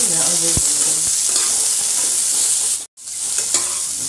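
Kul (jujube) chutney with turmeric, salt and green chilli being stirred in a hot pan, a loud continuous sizzle with scraping strokes and one brief cut to silence, close up with no talk.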